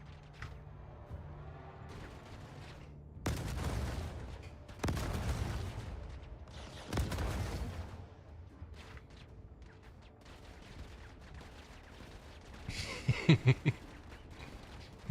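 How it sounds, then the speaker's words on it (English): Enemy gunfire hitting a player's spaceship in a space combat game, heavy booming impacts and clusters of shots at irregular moments, with a sharp rattling burst near the end over a low mechanical hum. "why are they still shooting me?"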